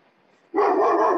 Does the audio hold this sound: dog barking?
yes